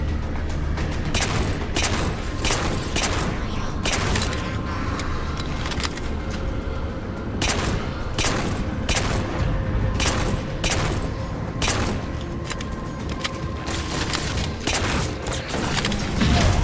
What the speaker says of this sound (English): it's a fuel rod